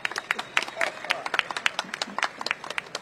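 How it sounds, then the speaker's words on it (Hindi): An audience at an election rally for a Union Minister in Karawal Nagar claps to welcome a guest, with scattered sharp, irregular handclaps over crowd murmur and a voice speaking. "उनका ताली बजाकर स्वागत करिए"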